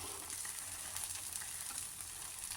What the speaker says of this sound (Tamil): தோசை ஊற்றும் போதே தோசையை மெலிசாக ஊற்றிடணும்.